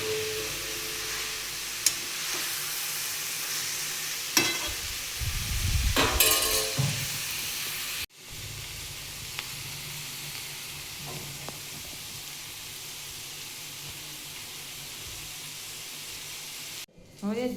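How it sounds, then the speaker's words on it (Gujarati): Vegetables sizzle in hot oil for a tempering (vaghar) while preparing vegetable parathas: a hissing fry that swells in loud bursts partway through, with stirring clinks and people talking nearby. "તો ચલો તેલ મૂકીને વઘાર કરી નાખીએ."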